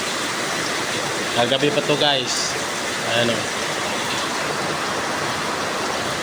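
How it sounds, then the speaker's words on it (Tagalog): Heavy rain pours down in a dense, steady roar in a subdivision in San Pablo, with a person speaking briefly over the downpour. "sobrang lakas ng ulan dito sa San Pablo"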